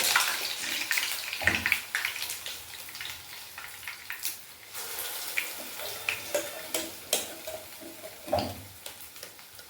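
Urad dal vadas frying in hot oil give a continuous close sizzle and bubbling hiss with occasional louder pops and stirring clinks.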